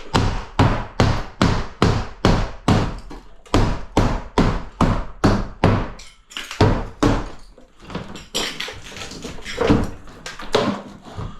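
A hammer tapping in quick, evenly spaced blows around a wall light switch, loud and close, a regular run of strikes that turns into looser, scraping knocks with short pauses.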